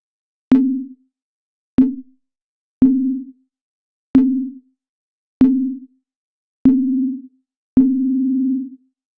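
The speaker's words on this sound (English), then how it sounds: "the sine wave of Oscillator 1 and have a look at what it does" Seven short, identical pure sine-wave tones from Oscillator 1 of the Swiss synth, evenly spaced, each with a sharp attack and quick fade, the last one held slightly longer, clean and alone.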